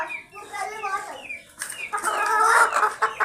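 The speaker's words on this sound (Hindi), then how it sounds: "बोले एक और मुर्गी हमने बिठा दी है अंडों के ऊपर।" A hen sitting on eggs in a family flock clucks and murmurs up close, a run of short throaty notes that builds into louder agitated squawking.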